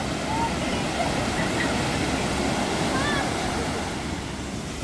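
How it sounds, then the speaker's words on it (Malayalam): High sea waves break at Munambam shore in a steady, loud, unbroken roar of surf that fills the whole stretch without pause, heard where fishermen cast nets into the sea. "തിരമാല ഭയങ്കര കൂടുതലാണ്"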